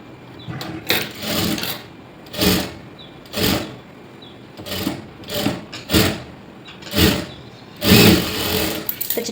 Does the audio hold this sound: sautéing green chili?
no